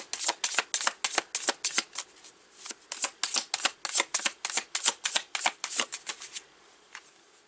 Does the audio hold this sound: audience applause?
no